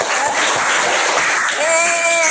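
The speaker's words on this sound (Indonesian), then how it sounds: "Ibu berkata tepuk tangan." Students in a classroom clap their hands together, a loud dense burst of clapping that fills the whole moment, with voices mixed in.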